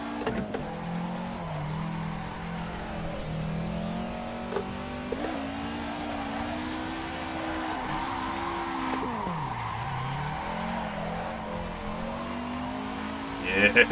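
A Toyota AE86 in the Assetto Corsa racing game drifts at full throttle, its engine droning at a sustained high pitch that rises and dips with the revs while the tires squeal steadily.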